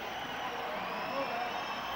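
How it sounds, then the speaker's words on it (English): Hockey arena crowd at a 1983 USSR versus United States game roars steadily after a late US goal, a dense, sustained wash of cheering and shouting with no clear break. "This crowd is just going wild."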